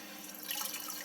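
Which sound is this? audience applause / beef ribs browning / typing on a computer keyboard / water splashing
water splashing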